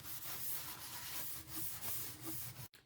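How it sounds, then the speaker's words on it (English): Paper towel rubbing and wiping a tumbler clean with acetone, a close, steady scrubbing rustle with repeated strokes for nearly three seconds before stopping abruptly. "I'm just taking some paper towels and I'm cleaning it off with some acetone."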